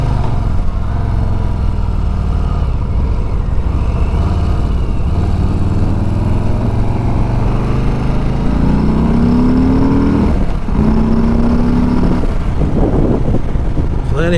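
A 2020 Harley-Davidson Street Bob's V-twin engine rumbles loud and close, its pitch rising as it accelerates through revs with a brief shift-like dip, continuous throughout.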